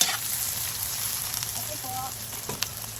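Chopped onion and garlic sizzle in a very hot pan, a dense, continuous frying hiss, heard up close, with a few small pops and crackles near the end.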